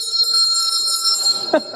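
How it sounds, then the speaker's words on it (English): A dinner bell rings with sustained, bright, steady tones that carry through the whole moment, with a brief clatter near the end. "Oh, there's the dinner bell."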